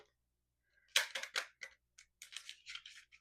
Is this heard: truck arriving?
no